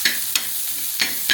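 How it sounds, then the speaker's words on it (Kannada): Onion and tomato sizzle in a pan for a mushroom cheese omelette, with four quick scraping stir strokes spaced across a steady close frying hiss. "ಫಸ್ಟ್ ಈಗ ಇದಕ್ಕೆ ಈರುಳ್ಳಿ ಟೊಮೆಟೊ ಹಾಕಿ ಮಿಕ್ಸಿಂಗು."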